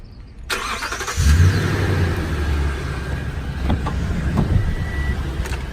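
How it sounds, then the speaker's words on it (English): A Toyota Tundra truck remote-starts: the engine cranks and catches about a second in, then settles into a steady, close, low idle rumble with no voices. "Remote start, you press it one time, it'll remote start the truck."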